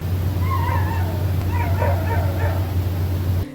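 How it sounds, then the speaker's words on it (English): A dog whines and whimpers outside a few houses down early in the morning, thin high yelps rising and falling at a distance over a steady low hum. "There is a dog outside that keeps whining."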